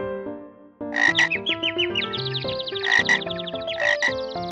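Loud, repeated frog croaks ring out over a bright, melodic background that plays through the whole span.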